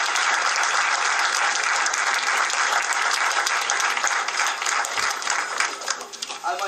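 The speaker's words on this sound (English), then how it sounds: "I think these young men and women deserve a big round of applause" An audience at a school directors' meeting gives students a full round of applause, dense and loud for several seconds before tapering off at the end.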